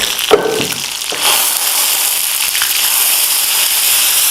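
Mustard seeds and green chillies spluttering in hot oil in an iron kadhai, a sharp crackle at first settling into a steady loud sizzle.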